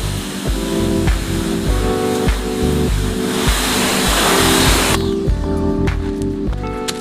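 Water spray hisses steadily against a Ford Fiesta wheel during rinsing, loud and close for about five seconds before cutting out, with a low rhythmic pulsing running underneath throughout.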